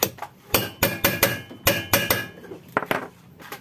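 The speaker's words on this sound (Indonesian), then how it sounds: "baru kita palu." Sharp hammer blows ring out on a Vespa PX scooter while its ignition timing is adjusted, about a dozen close, loud metallic strikes in uneven bursts with short pauses between them.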